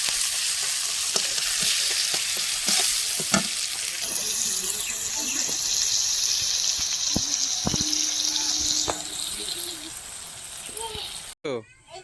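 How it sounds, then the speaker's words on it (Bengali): Spice masala for a fish curry frying and being stirred in a pan, a steady sizzle with intermittent clinks and scrapes of the spoon, a voice speaking in the background, ending in a brief clatter. "মাছের ঝালের জন্য মশলাটা এখন আমি ভালো করে কষিয়ে নিচ্ছি"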